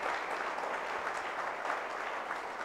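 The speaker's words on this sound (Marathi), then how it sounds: "टाळ्या वाजवूया एकदा" An audience claps together in a dense, sustained burst of applause at a company prize distribution, heard at a moderate distance with even loudness throughout.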